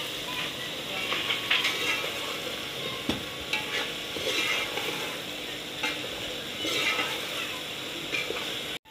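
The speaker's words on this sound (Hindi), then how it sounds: "जी तो मसाला भून के अभी इसमें डाल रहे हैं प्याज।" Masala with salt, red chili and turmeric frying in a pan, a dense continuous sizzle under repeated scraping stirs, close and loud, with a brief thump near the middle.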